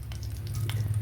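Fenugreek seeds frying in hot oil in a pan, a brief, close crackling sizzle that holds steady with faint popping, no voices.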